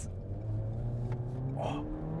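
A 2020 Renault Megane RS Trophy engine revs under acceleration, a steady low drone whose pitch climbs toward the end, heard from inside the car with no talk.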